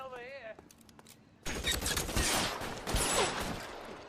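Gunfire in the video game L.A. Noire Remastered: a loud burst of shots bursts in after a quiet opening with a brief tone, followed by sustained, dense firing and crackle.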